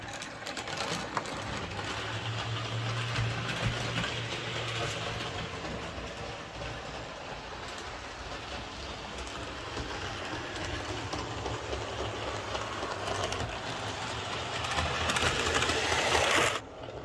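A Bachmann model train locomotive runs steadily at low volume, giving a continuous mechanical whir and hum with a faint clicking rattle that swells slightly near the end; nobody talks.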